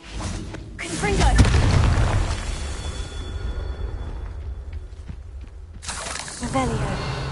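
The Confringo fiery blasting spell in Hogwarts Legacy goes off as a heavy booming burst with a whooshing tail, then fades into a lower rumble before a second sharp burst near the end, with voices in the mix.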